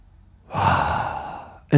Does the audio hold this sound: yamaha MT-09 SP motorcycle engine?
no